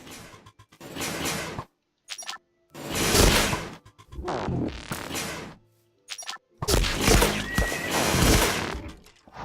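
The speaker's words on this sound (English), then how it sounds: "On a horse." A horse in Minecraft neighs and whinnies several times in loud, separate bursts with short silences between them, and no one speaks over it.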